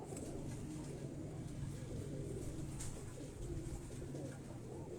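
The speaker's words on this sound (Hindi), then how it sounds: "ये सियालकोटी ब्रीड के ये कबूतर हैं" Sialkoti breed pigeons cooing softly on a rooftop, low murmuring coos repeating over a faint steady background hiss.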